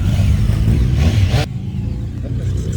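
A smoky motorbike revs loudly and close by, its engine roar cutting off sharply partway through and leaving a lower idle rumble behind.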